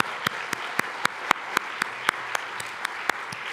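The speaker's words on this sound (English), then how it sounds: "Let's give them a round of applause." Scattered claps ring out at a Radcliffe Day ceremony, where the audience applauds the Harvard class of 2026: sharp, evenly spaced claps at about four per second stand out above a soft, low background of hall noise.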